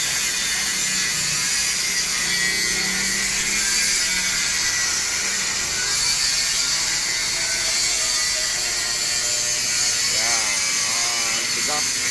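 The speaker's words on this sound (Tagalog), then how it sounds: "Grinder." A grinder cleans an aluminum radiator, a loud continuous high whirring buzz filling the whole stretch with no break.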